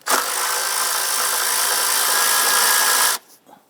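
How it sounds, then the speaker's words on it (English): A power tool, likely a drill or impact driver, whirs steadily for about three seconds while loosening and removing a 10mm nut on a 2011-2021 Jeep Grand Cherokee 3.6L V6 during valve cover work, then stops abruptly. "On the back passenger side here, we have a 10mm nut. I want to go ahead and loosen and remove that."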